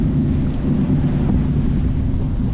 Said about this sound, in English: we've been hooning down the river in the jet boat, doing some spins